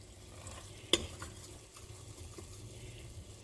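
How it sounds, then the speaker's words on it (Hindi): Cooked onion being pressed with a spoon into a mutton curry with whole spices and ghee in a pot: a single firm clank against the pot, then soft stirring and a gentle simmering sizzle, close and without talk. "थोड़ा सा जो प्याज नज़र आ रहा है उसको मैं इस तरह से दबा रही हूँ।"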